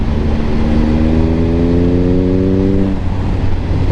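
A Triumph Speed Triple 1050 RS with the throttle shut, its engine note dropping in a steady descending whine close by under rushing wind, then fading lower near the end.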